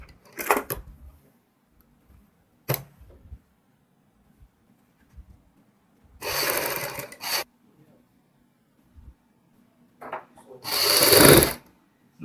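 A sewing machine stitches fabric and buckram for a sherwani-style long jacket in loud, short bursts of whirring, with quiet handling clicks and taps between the runs.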